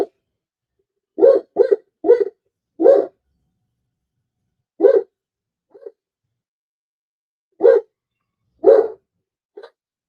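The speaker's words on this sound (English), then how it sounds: "This dog is getting on my nerves." A dog barks in short, loud bursts, single and doubled, with quiet pauses in between, and no voices.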